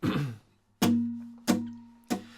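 Acoustic guitar strummed in a few sharp, ringing strokes, each chord left to sustain and decay before the next; a brief busier passage opens it.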